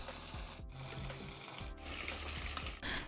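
Smoked Irish rashers and double cream cooking together in a pan for carbonara: a soft, continuous low sizzle with faint stirring scrapes, quiet and close.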